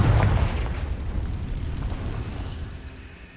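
A single Confringo blasting spell from the Hogwarts Legacy video game erupts in a loud, deep explosion that hits at once and then rumbles and fades over a few seconds.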